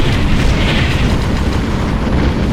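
A Hoverdyne unit explodes in the Ground Control video game, a dense, loud, roaring blast that stays sustained and rumbling through the short span.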